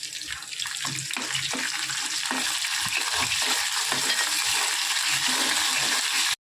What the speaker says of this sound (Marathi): शेवटी कढीपत्ता टाकते मी.